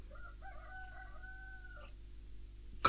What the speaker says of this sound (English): that's a loud bird, that I love the cock-a-doodle-doo